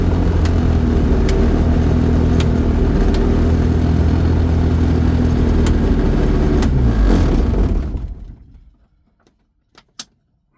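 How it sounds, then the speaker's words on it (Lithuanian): The engine of an Xair-F ultralight aircraft runs loud and steady at close range for about eight seconds, then winds down and cuts out, leaving near-silence broken by a few faint clicks. "varikliukas dirba super, viskas tvarkoj"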